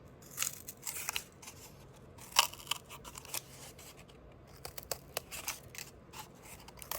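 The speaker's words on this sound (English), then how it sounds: "When you cut, you want to put the cardboard all the way at the end of your scissors." Scissors cutting through a piece of cardboard for a kumihimo bracelet loom, giving sharp, crisp crunching snips at irregular intervals, close and fairly quiet, alone without talk.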